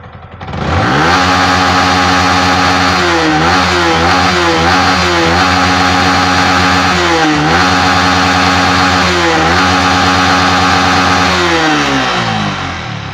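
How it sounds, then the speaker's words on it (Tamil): A Yamaha MT15 motorcycle engine with a low-pickup problem revs loudly and steadily up close, its throttle blipped several times so the pitch dips and climbs again before settling, with no one talking. "வண்டி நல்லா பக்காவாக ரைஸ் ஆகுது"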